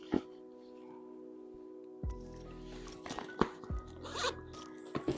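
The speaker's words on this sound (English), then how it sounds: "And it has an interior zippered compartment." Interior compartment zipper on a Loungefly Star Wars handbag, a few short zipping pulls and rustles close by over a steady low hum, with no talking.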